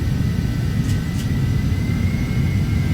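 Phenom 300 business jet in the Prepar3d flight simulator spooling up to takeoff power on a rolling start, a steady loud low jet roar with rumble that runs continuously throughout, with no talk.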